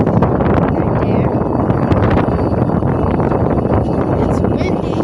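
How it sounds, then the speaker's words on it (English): Strong wind buffets the microphone in a steady, loud roar of low rumbling gusts, heard outdoors near an airport runway where a United Airlines plane has just landed. "It's windy."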